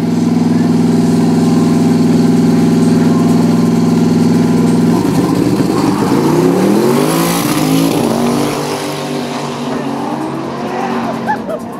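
A Fiat Topolino dragster with a frame chassis and a powerful engine runs loud and steady on an airfield with a deep droning tone, then the pitch shifts and wavers as the engine note changes and slowly eases.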